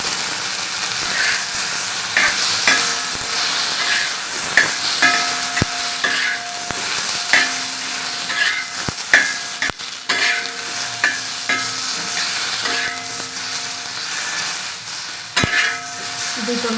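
Two coarsely chopped onions fry in about a teaspoon of oil in a pan, giving a steady loud sizzle and hiss broken by scraping stirs, with a faint background tone at times.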